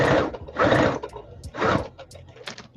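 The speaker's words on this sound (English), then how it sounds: "so I'm just sewing them all together" A domestic sewing machine stitches fabric strips together in short bursts: two longer runs, a third run, then quicker stop-start spurts, fairly close and with no talk.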